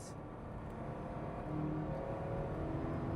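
A car engine runs flat out, a steady, fairly faint drone with a rising harmonic whine partway through.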